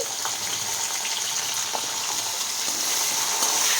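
Green beans sizzle steadily in hot oil for a cabbage-and-beans curry, a dense even frying hiss with a few faint stirring clicks, close and continuous without talk.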